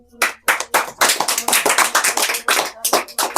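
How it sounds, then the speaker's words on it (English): A few people clap their hands in a classroom, a close, uneven run of sharp claps in quick bursts, with no talking over them. "hands clap"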